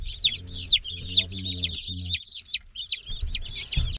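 Young chicks peep in rapid, high, sweet chirps that repeat almost continuously, with lower harmonic calls and soft thumps coming and going beneath them.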